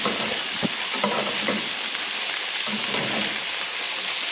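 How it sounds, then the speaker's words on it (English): Rice sizzles steadily as it is stirred into hot bacon grease in a pan, a dense, close frying hiss with a few faint scrapes of the spoon. "we're about to stir this rice into the bacon grease"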